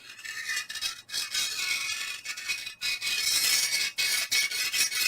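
Near, harsh scraping as a triangular scraper is drawn along a steel tactical sword edge, the strokes broken by small dips and hitches where the blade catches; no voices.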